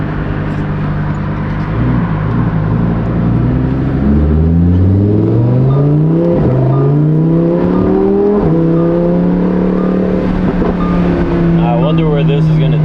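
A Lamborghini Huracan Performante with its V10 engine drives along, a loud, steady engine tone rising and shifting through the gears.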